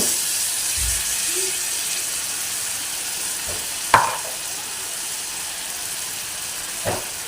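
Green masala paste added to frying onion and tomato for a prawn masala: a steady hiss of sizzling oil with soft stirring scrapes, a sharp utensil clink partway through and another near the end.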